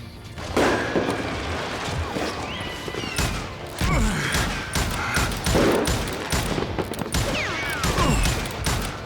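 Rapid gunfire from the Western shooter game Call of Juarez Gunslinger, with repeated loud shots in dense volleys, ricochets and crashes that carry on throughout the clip.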